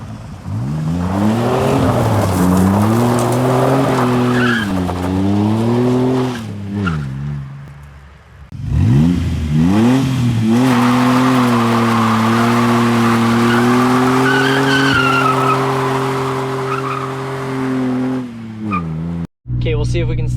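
Ford Ranger 3.0 with a straight pipe exhaust, loud and close, revving hard through gear changes with rising and falling engine pitch and tire squeal as it slides a corner, briefly easing off midway.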